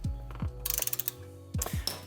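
Clicks of a torque wrench ratcheting on 6mm Allen bolts holding a brake rotor on a BMW F80 M3, a close, crisp series of rapid ratchet ticks between short heavier mechanical strokes, with no talking.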